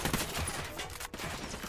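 Gunfire rattles through a firefight in the video game Ghost Recon Wildlands, with dense overlapping shots and a sharp crack partway through, steady and fairly loud.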